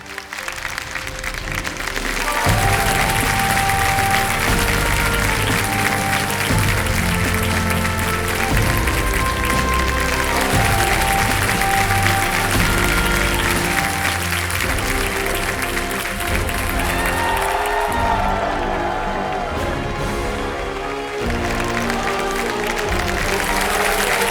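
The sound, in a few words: loud audience applause for Aamir Khan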